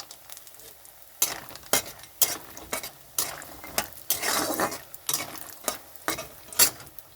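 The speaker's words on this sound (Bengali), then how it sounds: "সর্ষের তেলটা গরম হয়ে গেছে তো এখানে আমি বড়িগুলো ভেজে নিচ্ছি" Small lentil dumplings sizzle in hot mustard oil while a utensil scrapes and clinks against the pan in repeated strokes, close by and without speech.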